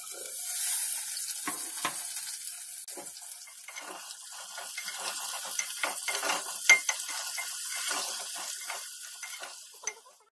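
Cauliflower pieces tumble into a pan of half-cooked frying potatoes, giving a soft hissing sizzle with scattered crackles and stirring clatters, close and fairly quiet, with no talking.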